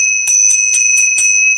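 Small Tibetan tingsha bells, used in meditation practice, are struck about five times in a steady rhythm. Each strike is a bright, close ringing tone that sustains between hits, with no talking.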